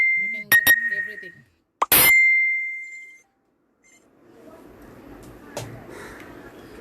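Phone notification chimes ring out as two short, bright dings, the second holding a clear tone for about a second. A voice is heard around the first ding, and soft background noise follows.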